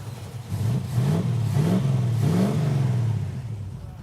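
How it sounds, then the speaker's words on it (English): A stick shift car engine with a mild cam, headers and new spark plugs, suspected of an ignition box fault, runs near a 900 RPM idle, a close, steady low rumble that rises and falls slightly in pitch with small throttle blips. "So I've set the idle speed at 900 RPM, which for a stick shift car is fine"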